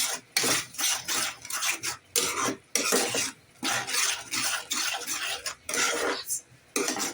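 A spoon stirs a pot of pumpkin kofta mixture with added salt, giving repeated rhythmic scraping strokes in bursts of about half a second, separated by brief pauses, loud and close with no voices.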